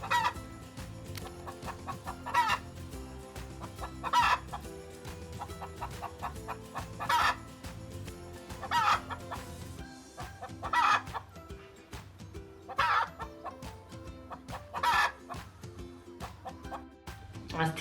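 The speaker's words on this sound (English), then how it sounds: "the neighbors have chickens, and when they lay an egg they'll be doing the egg song and shouting about it" Backyard chickens clucking and squawking after laying an egg: repeated loud bursts of cackling at irregular intervals over a fainter continuous murmur of hens, with occasional crowing-like calls.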